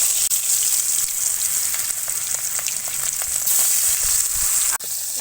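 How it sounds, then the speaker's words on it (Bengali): Pangas fish pieces frying in hot oil in a wok, a steady dense sizzle and crackle throughout with small pops, close and fairly loud with no talking. "তেল গরম হয়ে গেছে, এখন আমি মাছগুলা একে একে দিয়ে দিব।"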